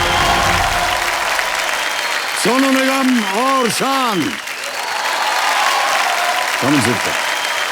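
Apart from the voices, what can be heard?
studio audience applauding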